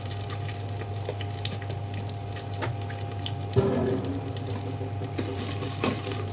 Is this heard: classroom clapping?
no